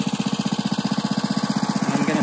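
A small gas engine on a 2-inch trash pump idles close by, with a steady, rapid chugging pulse that quickens slightly toward the end.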